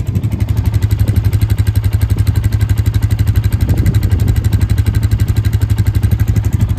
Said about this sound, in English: So that's a little four-wheeler. I'll let you guys kind of hear it run here.